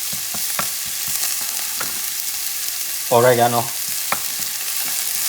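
Goat stew ingredients stirred in a pot sizzle softly, with scattered scraping clicks from the spoon and a short spoken word partway through.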